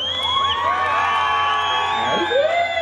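A karaoke crowd cheers and whoops together, a dense, loud mix of shouting voices and high whistle-like cries that runs steadily throughout.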